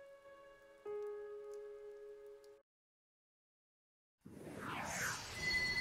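In the horror drama game Chaos: Hlava Noah, sustained tones fade to silence before a steady hiss of falling rain sets in, dense and continuous.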